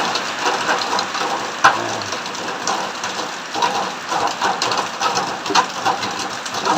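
Heavy rain pours steadily on a building site for a cheap house in the Philippines, a dense loud hiss with scattered sharper drops and one brief thump, and no voices.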